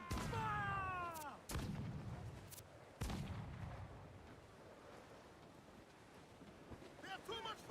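Ship cannons firing in Assassin's Creed Black Flag, with several heavy booming shots at intervals over wind and sea noise, and crew voices shouting between the blasts.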